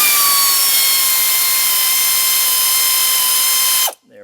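A speed wrench tightens a rear brake bolt on a 2007 Nissan Altima, giving a loud, steady mechanical whine that runs unbroken for about four seconds, then cuts off abruptly.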